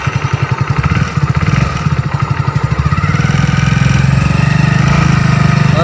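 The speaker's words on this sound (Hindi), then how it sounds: "अब चलाता हूँ पहले मैं अपनी बाइक।" A motorbike rolls slowly with a skateboard under its front tyre; its engine chugs loudly and steadily at low revs, with a rhythmic pulsing throb throughout and no talk.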